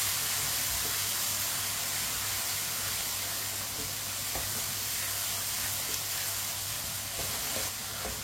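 Turmeric and coriander powder with red chili frying in oil in a pan over low heat, a steady, even sizzle and hiss running continuously, with faint stirring ticks now and then.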